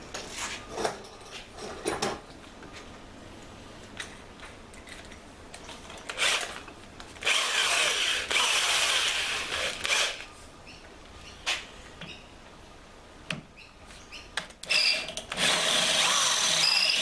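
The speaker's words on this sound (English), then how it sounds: "We'll grab the larger drill bit." Several bursts of a power drill whirring, some short and some held for a couple of seconds, close by with quiet pauses in between.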